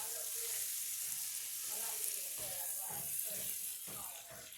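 Food pieces toast in a pan on the stove under a steady high sizzle, with soft scraping strokes of stirring coming through every second or so.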